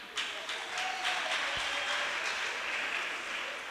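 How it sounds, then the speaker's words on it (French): A church congregation breaks into steady, sustained applause, a broad even wash of many hands clapping at moderate distance, continuing throughout with no talk on top. "Pourquoi vous applaudissez?"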